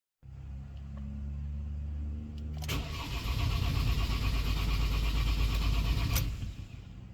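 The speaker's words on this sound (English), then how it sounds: "You want to just crank it till that oil pressure light goes off." A Ford Transit van engine cranks with a steady whirring starter for over two seconds, then catches and roars into a loud, close idle that runs for several seconds before easing off.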